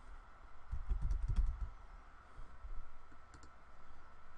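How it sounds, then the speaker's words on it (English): A city name being typed on a computer keyboard: a quick flurry of soft key taps over a steady background hum, followed by a few fainter scattered clicks. "So I'm going to type in the city that I live in, the next city over,"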